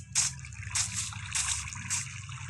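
Minecraft water being scooped up, a few short bright splashy trickles in quick succession over a low background hum.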